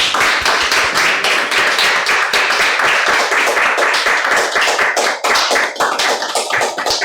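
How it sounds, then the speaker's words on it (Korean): A lecture audience claps after a forum talk, a dense, steady wash of many hands held at full loudness throughout with no voices. "오세라비 선생님 훌륭한 강연 다시 한번 큰 박수 부탁드리겠습니다"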